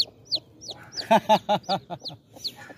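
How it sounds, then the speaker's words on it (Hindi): A four-legged chick clucks and peeps in a rapid series of short, close, high calls, with a quick cluster of louder clucks in the middle. "4 टांगों वाली भी मुर्गी होती है भाई हमारे पास"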